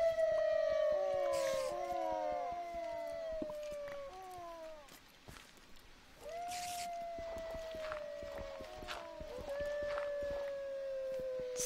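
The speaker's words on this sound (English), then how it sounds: "What is up with the howling?" A pack of wolves in the modded Minecraft game Better Than Wolves sends up overlapping drawn-out howls that bend downward, waves of them cresting and dipping over about twelve seconds with no speech.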